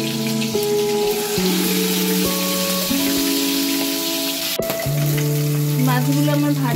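Fish pieces frying in hot vegetable oil give a loud, close, steady sizzle, joined by a melodic tonal line that steps through several pitches.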